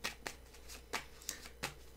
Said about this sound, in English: Bad shuffle.